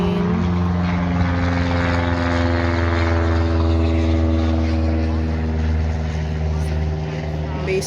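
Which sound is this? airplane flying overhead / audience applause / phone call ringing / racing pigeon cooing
airplane flying overhead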